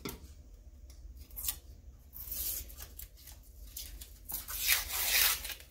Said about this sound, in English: So I'm going to take off the coating from the acrylic piece.